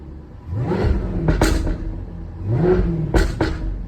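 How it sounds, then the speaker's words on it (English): A supercharged Jaguar F-Type R with sport exhaust is revved up close in two sharp throttle blips. Each rises with a whining roar and ends in loud exhaust cracks before settling back to a rumbling idle. "You can really hear the whine of the supercharger, and that exhaust just sounds, I mean, it is awesome."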